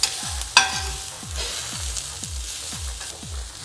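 A spoon stirs mint, coriander, turmeric and chilli powder into brown rice on a hot tawa, giving about nine steady scraping strokes in an even rhythm over a soft sizzle, close and moderately loud with no talking.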